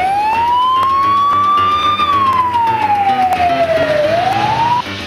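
Ambulance siren wailing close and loud, one steady tone gliding up, falling slowly and rising again, over a low background rumble.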